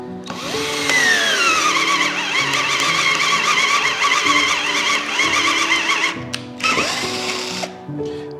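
A power drill fitted with a 3/4 inch bit bores holes for water tubes in a centerpiece, whining loudly and steadily for about six seconds, then stopping briefly and starting again.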